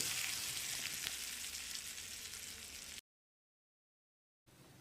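Hissing, crackling sizzle of tempering spices frying in hot oil for coconut chutney, steady and close for three seconds, then a sudden cut to silence before it briefly resumes.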